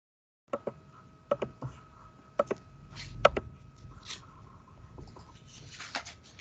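A computer mouse is clicked repeatedly on an online committee call, giving a series of sharp, close, irregularly spaced clicks, some in quick pairs, against faint background noise.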